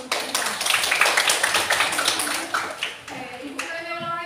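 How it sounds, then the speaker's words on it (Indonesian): Classroom students clap their hands together in a quick, dense burst lasting several seconds, with children's voices chattering over it and the clapping tapering off as a teacher's speech resumes near the end. "boleh tepuk tangan dulu"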